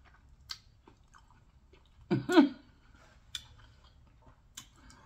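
Someone eats corn on the cob and spicy tacos up close, producing sparse, soft crunches and wet chewing clicks with one louder bite in the middle and quiet pauses between.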